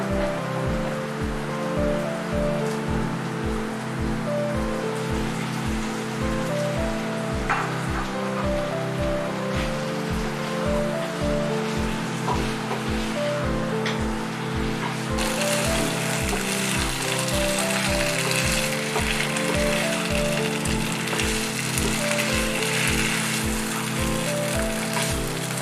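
Boiled potatoes fry in a spiced masala for dum aloo, a steady dense sizzle and crackle like rain running close and unbroken throughout, with a rhythmic low thumping underneath.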